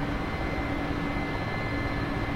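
A helicopter in flight slowing down, its steady engine and rotor drone holding at a moderate, even level through the short stretch with no voices.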